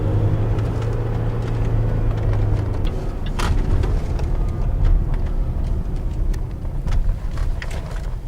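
A Land Rover Discovery TDV6 four-wheel drive on a quick spin with its sporty setting, giving a steady low engine rumble and road noise from inside the cabin. A low drone fades after the first few seconds.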